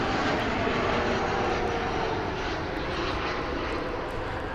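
An Alaska Airlines airliner arriving from Seattle at DFW Airport passes close by, a loud steady jet engine roar filling the brief stretch without any talk.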